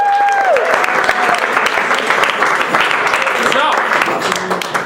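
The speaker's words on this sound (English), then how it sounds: "let's send our judges out with a round of applause" An audience applauds as judges leave the stage at a show, with loud, dense clapping throughout and a voice and a brief musical tone heard early on.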